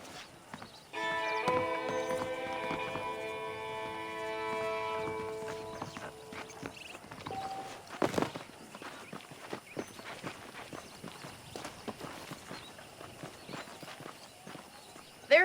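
Saddled horses in the Red Dead Redemption video game walk with a rhythmic clip-clop of hooves, steady and moderately close. A drawn-out tonal whinny-like sound carries over the first several seconds, and a brief thud comes near the middle.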